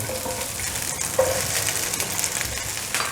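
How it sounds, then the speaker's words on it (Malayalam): Onion and capsicum stir-fry in hot oil in a kadai for kadai chicken, giving a steady close sizzle with brief scraping stirs and no talk. "ക്യാപ്സിക്കം ഇട്ട് കഴിഞ്ഞിട്ട് നമുക്കൊരു 2 മിനിറ്റ് ഇളക്കിയാൽ മതി."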